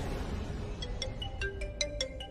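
A mobile phone ringtone chimes in a short melodic pattern of bright, evenly spaced notes, playing at moderate volume over a steady background hum in a domestic drama scene.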